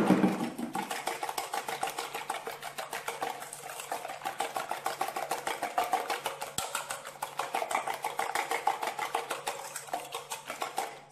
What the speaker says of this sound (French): je vais ajouter mon sucre en poudre et je vais venir blanchir le tout afin que mes œufs ne cuisent pas